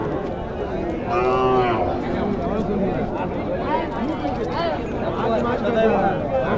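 Local native heifers mooing at a weekly cattle market, with one clear drawn-out low from a nearby animal standing out over a busy crowd murmur, voices talking throughout, and further calls and market noise around.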